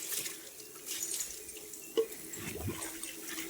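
Water is poured and splashed from a bucket while a bicycle is washed during servicing. The trickling and dripping are faint, with one brief sharper splash, and no voices are heard.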